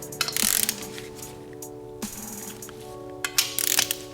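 A Milwaukee Fuel 3/8-inch mid-torque cordless ratchet runs in short bursts of whirring, clicking mechanism, close by, separated by brief pauses and trailing off with faint mechanical rattles.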